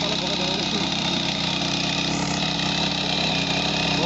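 A small tiller rotavator engine runs steadily nearby, a continuous droning rumble with no pauses, and a voice seems to be mixed in with the noise.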